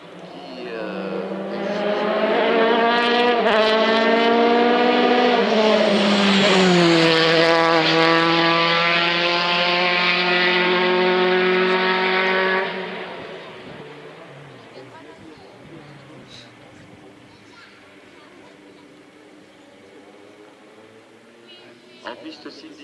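A Formula 3 race car at the Chamrousse hill climb screams past with a loud, high, rising engine note that holds for several seconds, then fades into the distance under a commentator's talk.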